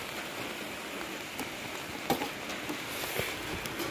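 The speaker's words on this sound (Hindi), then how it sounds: "बहुत ही ज़्यादा हैवी रेन हो रहा है" Heavy rain in a mountain village hisses and patters continuously, with scattered drops tapping nearby, a dense, even wash of sound.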